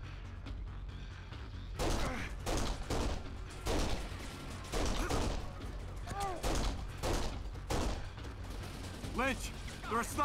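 Heavy sniper and rifle gunfire in the shooter game Kane & Lynch: Dead Men, with loud repeated sharp cracks spread across the whole stretch, mixed with battle noise and bursts of shouting.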